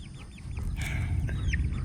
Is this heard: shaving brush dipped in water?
no